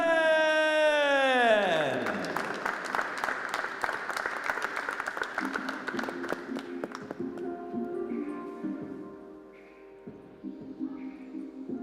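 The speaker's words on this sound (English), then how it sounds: "Give a big hands of applause to Wei Ju-Jen!" Spectators at a women's 10-ball world championship pool final applaud a player's introduction, a sustained patter of clapping that follows a falling electronic sweep at the start and gradually thins toward the end.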